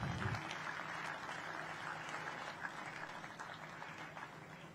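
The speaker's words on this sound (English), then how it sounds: "I would like us all to please give her a very, very warm round of applause." Steady applause from a crowd fills the whole stretch, a dense, even patter of many hands clapping at moderate distance.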